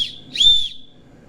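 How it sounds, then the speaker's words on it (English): A plastic survival whistle built into a knife handle from a Harbor Freight survival kit, blown in two shrill bursts, the second longer and louder, close up with no talking. "So a little survival whistle built into the handle."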